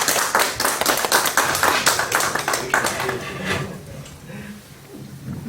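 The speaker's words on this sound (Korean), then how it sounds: "큰 박수 부탁합니다" Audience applause at a university forum on the candlelight protests fills the room with dense, continuous clapping from many hands that gradually thins and fades as it ends, with a voice briefly heard underneath.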